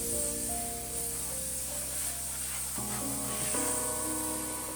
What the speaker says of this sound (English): Once the wheels were cleaned, they were blown out using an air gun and then left to dry to begin the polishing stage.